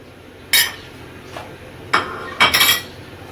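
A metal spoon stirring kadhi with turmeric, red chili powder and crushed coriander in a cooking pot, a few distinct clinks and scrapes against the pot spaced over a quiet background.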